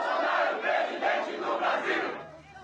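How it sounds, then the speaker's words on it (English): A large crowd at a Brazilian political campaign rally roars and cheers in rhythmic waves, loud and sustained, fading slightly at the end. "the rapturous applause he's receiving as he travels the country"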